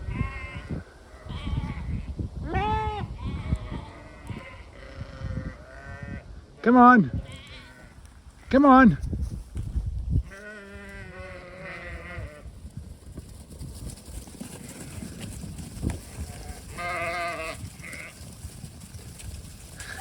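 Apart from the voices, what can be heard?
sheep bleating while being moved to a new paddock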